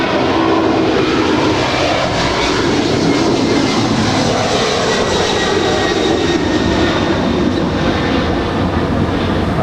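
Heavy cargo jet rolling for departure on a runway at Los Angeles International Airport, a loud, steady broadband engine roar sustained throughout with a faint whine on top, no voices.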